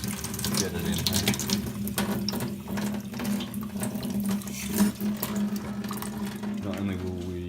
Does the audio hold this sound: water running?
yes